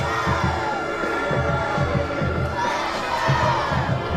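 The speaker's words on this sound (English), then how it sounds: "you can hear the Blacksburg crowd is back into it" A loud high school football crowd at Blacksburg roars and cheers continuously, with shouting voices and rhythmic stomping or drumming throughout.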